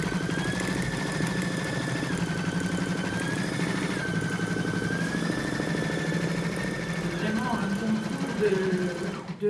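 An embroidery machine stitches with a constant, fast mechanical whirr and a thin steady whine, running evenly throughout with quiet voices in the background.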